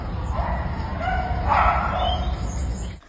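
Beagle puppies in a breeding facility give a few close, sharp yips and whimpering barks in a short burst over a constant background hum.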